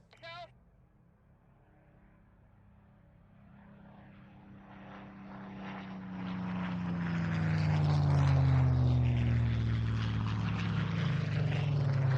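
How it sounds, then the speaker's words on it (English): Two Spitfire aircraft fly in at an air show at RIAT, their propeller engines rising from a faint distant drone to a loud, close roar with a sweeping pitch change; a brief voice is heard at the very start. "get your cameras ready as we see the 2 Spitfires coming in from left and from the right"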